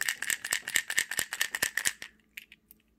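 A Cajun Wake Bait fishing lure is shaken, giving a fast run of about a dozen sharp, close rattling clicks that stop abruptly and leave a few faint scattered ticks.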